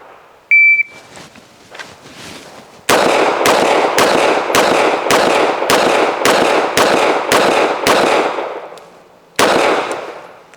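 A handgun fired rapidly until about ten rounds are emptied: a fast, evenly spaced string of loud, sharp close-range shots, preceded by a short beep and a few fainter knocks.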